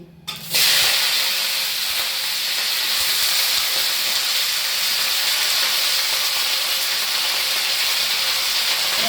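Malabar spinach leaves dropped into hot oil for pui posto set off a sudden loud sizzle after a brief quiet start, then a strong, steady hiss that continues unbroken.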